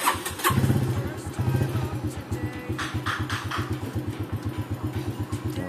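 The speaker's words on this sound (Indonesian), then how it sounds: "kemudian kita pijit tombol starter, dia akan berfungsi sebagai starter." A motorcycle engine is cranked with the electric starter button, giving a rapid, even chugging that turns over close by, with a brief louder burst at the start and faint speech-like sounds mixed in.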